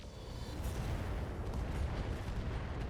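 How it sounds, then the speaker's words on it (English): In the combat game Flashpoint, an ammunition explosion produces a deep, sustained roaring rumble that swells and then holds steady for a few seconds. "Got an ammo explosion."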